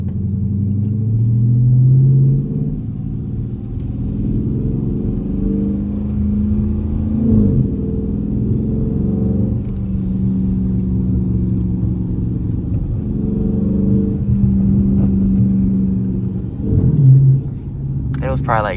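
A Dodge Charger RT with a loud exhaust rumbling and revving on a late-night drive, a deep engine drone that swells under steady talk throughout.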